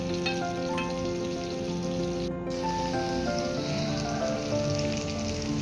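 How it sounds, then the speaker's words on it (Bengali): Pieces of ash gourd frying in hot oil, a steady dense sizzle and crackle that holds at an even level from start to finish with no voices. "এই চাল কুমড়োগুলোকে ভেজে নিচ্ছি।"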